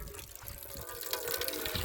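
Water pours and splashes into a container for a thirsty goat, a steady quiet gurgling stream lasting the brief stretch without voices.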